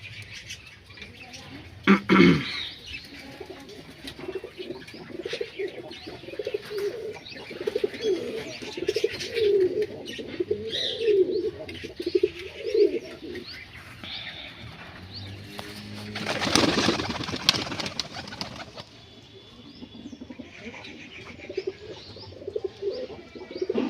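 Pigeons coo steadily in a loft where moulting Telmark and lotan birds are kept, a rolling low murmur that carries through most of the stretch, with wing flutters and a burst of scuffling noise partway through.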